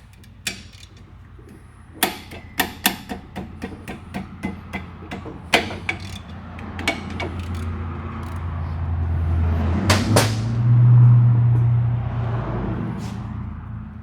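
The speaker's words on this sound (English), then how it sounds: "What we're going to do is the main bracket bolts. Go ahead and get those loose." Brake caliper bracket bolts being loosened on a 2002 Pontiac Firehawk: a run of sharp metallic clicks and knocks, close and fairly loud, fading into a low rumbling rub toward the end, with no talking.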